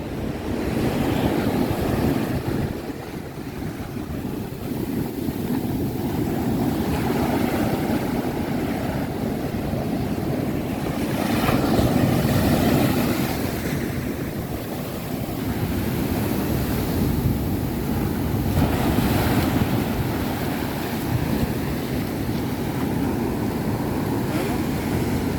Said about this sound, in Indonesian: Tidak terasa udah nyampe pantai Jetis.